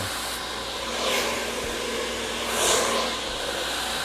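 A hair dryer with a concentrator nozzle blows steadily while curly hair is being dried. The airflow whooshes continuously and fairly close, swelling in brief surges as the dryer moves, with no talking.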